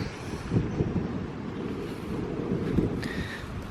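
Strong wind blowing outdoors in an old graveyard among trees, a steady low rushing roar with gusty buffeting against the microphone, continuous and fairly loud.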